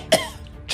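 A voice imitating a small child's fake cough, one short sharp cough up close, with the start of a second at the very end.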